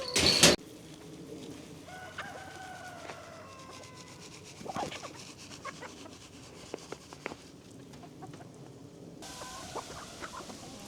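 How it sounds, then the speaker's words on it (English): A rooster at a snowy, sunny off-grid cabin homestead gives soft clucks and short calls, faint against a quiet outdoor background with scattered small knocks. "Rooster"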